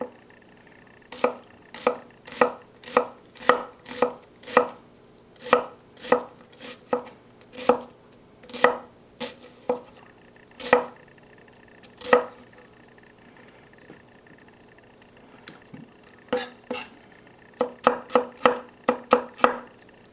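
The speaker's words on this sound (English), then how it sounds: "don't cut all the way through, otherwise the onion will fall apart" A knife chops an onion on a board in a home kitchen with a crisp, steady rhythm of close strikes. The chopping pauses briefly, then ends in a quick flurry of cuts.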